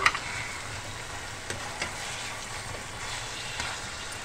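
Two bacha fish frying in hot mustard oil, a steady close sizzle with a few soft clinks and stirring taps scattered through, no voices.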